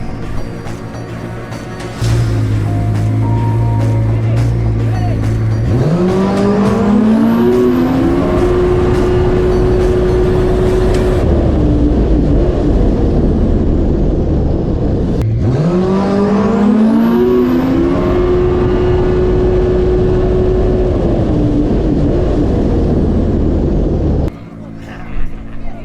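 Two racing jet skis at a drag race, engines screaming as they launch and rise in pitch through two runs, loud and sustained with commentators talking throughout.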